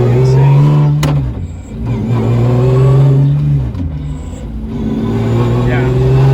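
Rally-spec BMW engine revving hard through very short gears, heard from inside the car; the loud, close drone barely drops in pitch between quick shifts before climbing again.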